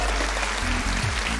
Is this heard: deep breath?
no